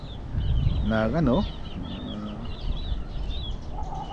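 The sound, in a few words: backyard breeder chickens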